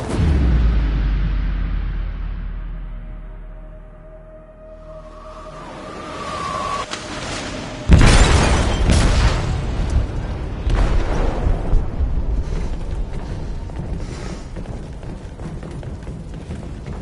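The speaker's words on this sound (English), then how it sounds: "They detonated an explosive in the hold. The ship is sinking, sir." A deep explosion rumbles through a ship's hold in the game Detroit, a low booming roar that fades, then a loud burst followed by sustained crackling, rushing debris and rumble.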